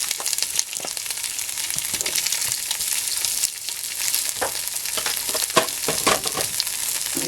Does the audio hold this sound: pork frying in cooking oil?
yes